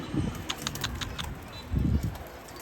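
A domestic pigeon, caught in Mardin, gives two short low cooing bursts close by, at the start and near the end, amid handling noises and a faint background hum.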